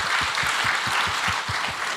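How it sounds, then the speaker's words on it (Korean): A church congregation claps together in a steady, fairly fast rhythm, a dense wash of hands filling the room, with a low rhythmic thump underneath keeping time. "하나님께 영광의 박수 올려드리겠습니다"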